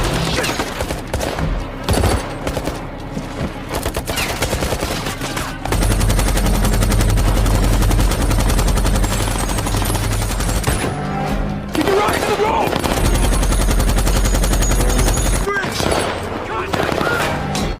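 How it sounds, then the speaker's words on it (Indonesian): Gunfire in a war film scene of soldiers ambushed by Taliban fighters, dense bursts and sustained fusillades with booms over loud score, continuous and close, with voices shouting at moments. "Satu persatu pasukan John tewas ditembak oleh pasukan Taliban"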